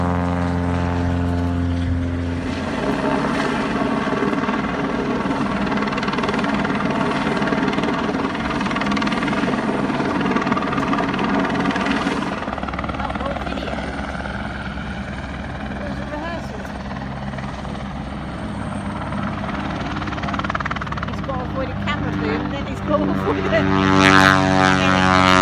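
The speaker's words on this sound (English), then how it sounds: "Helicopter in the right place, seaplane in the right place." Helicopter flying during a James Bond film shoot at sea, near a seaplane: a sustained, droning rotor and engine hum that holds steady for the whole stretch, swelling slightly near the end.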